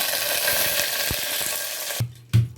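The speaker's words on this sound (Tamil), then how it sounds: "இது ஒரே ஒரு டக்குன்னு பொரிஞ்சிடும்" Cloves and fennel seeds splutter and crackle in hot oil for mutton trotter soup, a steady close sizzle with a few sharp pops, then dropping away into near quiet broken by a couple of low thuds.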